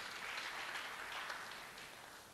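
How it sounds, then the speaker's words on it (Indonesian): Church congregation applauding for God, a faint, steady wash of many hands clapping together that fades slightly toward the end, with no talk over it. "Berikan tepuk tangan buat Tuhan."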